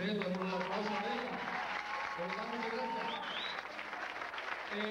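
An audience claps at a 1991 madrigal gathering, loud at first and easing slightly, while voices carry faintly over the applause.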